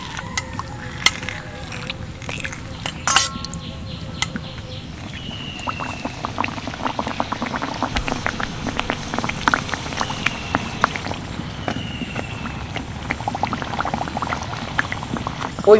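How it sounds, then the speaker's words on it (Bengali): Fried sweets slide into hot sugar syrup, setting off a busy bubbling and crackling with scattered splashy pops, loud and close for the whole stretch, with no voices. "সরাসরি মিষ্টি শিরার মধ্যে দিয়ে দেবো।"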